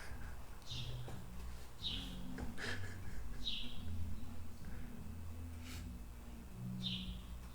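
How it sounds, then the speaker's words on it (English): Birds singing outside, faint chirps and short calls repeating every second or so, heard distantly through a quiet indoor room with a low hum beneath. "I don't know if you can hear the birds."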